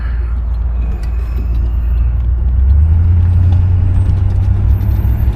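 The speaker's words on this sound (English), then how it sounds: "Let this truck go." A truck rumbles past with a deep, rising low-frequency roar, loud and close, heard over steady road noise from inside a moving 1966 Cadillac Coupe de Ville.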